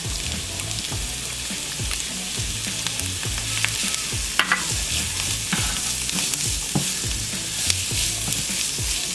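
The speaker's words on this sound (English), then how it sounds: "once your oil is hot and ready, we are going to throw our onion and cilantro." Onion and cilantro hitting hot oil for a spicy salsa, a bright continuous sizzle with rhythmic scraping stir strokes and small clinks throughout, close and fairly loud, with no voices.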